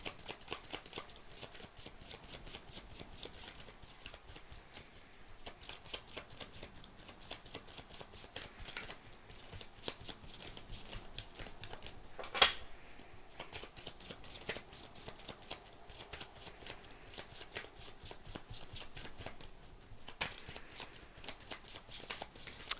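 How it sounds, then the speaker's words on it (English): Tarot cards being shuffled by hand for a Gemini reading, a steady run of soft riffling and flicking snaps that carries on continuously, close and quiet, with one sharper slap midway. "Really wants me to shuffle for this other card"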